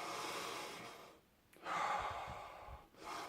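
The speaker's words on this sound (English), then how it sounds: "So this is your upper breathing, where you're actually breathing in the upper part of your" Upper-chest breathing demonstrated up close: a long audible inhale, a short pause, then a second breath and a brief third, soft airy rushes with no speech.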